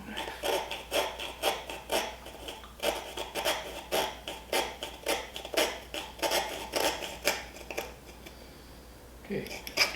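X-Acto knife rasping through a wooden carving of interlocking hearts, a run of rhythmic scraping strokes about twice a second, close and crisp, slowing near the end with a few final cuts.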